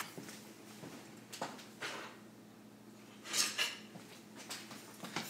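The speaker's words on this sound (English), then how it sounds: "Then I'm going to grab myself a spoon real quick." A metal spoon is picked up from a kitchen drawer or counter while making flax seed pancakes, giving a few soft clinks and one brighter metallic rattle midway, close and fairly quiet with no talking.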